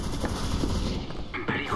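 Sniper rifle shots in Counter-Strike: Global Offensive, a few sharp reports over steady in-game background noise, loud and close.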